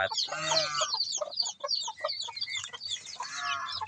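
Rhode Island Red chickens cluck in a backyard farm, giving close, repeated, clear clucks and squawks in uneven bursts with brief pauses between them.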